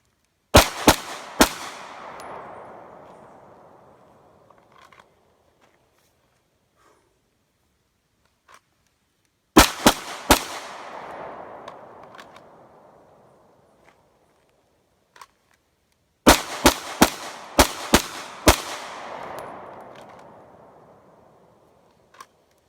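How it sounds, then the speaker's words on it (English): A Sig P320 pistol fires in three quick bursts of several sharp, loud shots, each volley trailing off into echoing decay, with long quiet gaps between strings. "Working our way up slowly to 500 rounds on this Sig 320."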